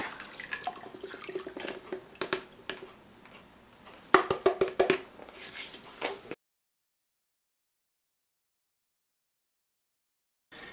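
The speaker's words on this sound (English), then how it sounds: "So I'm going in with the beer." Beer is poured into a big batch of soap batter at light trace, giving soft liquid splashes and gurgles with a cluster of sharper clatters midway, then silence for several seconds before a faint return of sound.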